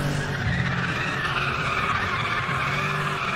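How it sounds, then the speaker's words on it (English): Tires squeal and skid without a break as a race car drifts in Need for Speed, loud and close over a steady engine roar. "you can see there just all the tires squealing, all of it"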